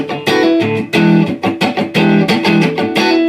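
An electric guitar with two pickups switched on plays a funk tone in a choppy, rhythmic run of short strummed chords with brief gaps between them, close and clear with no talking.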